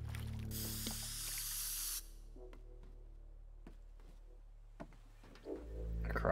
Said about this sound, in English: spray paint this to make it clear as to where I'm actually going